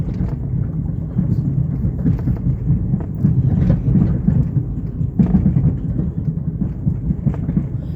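Steady rain patters in a dense, low wash of noise, with a few louder rumbles and thumps mixed into the downpour.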